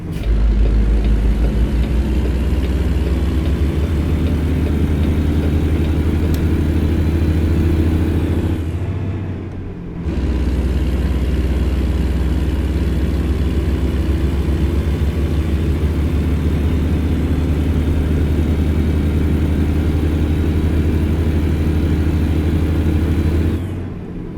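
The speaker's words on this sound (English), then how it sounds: "I'm just listening to the engine, the RPMs, just trying to get used to it." A Kenworth W900 truck engine in American Truck Simulator drones loud and close with a deep, steady rumble. It dips briefly partway through as the revs drop, then climbs back to a sustained, even roar.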